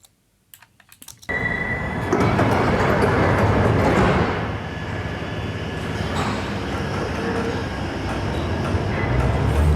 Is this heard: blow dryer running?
no